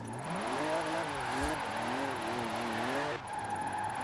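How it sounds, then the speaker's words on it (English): Pickup truck drifting in the Forza Horizon 4 racing game, its engine droning steadily with wavering pitch as it slides, a brief thump midway and a sharp shift near the end, loud and continuous. "It's a pickup truck, like, it's weird."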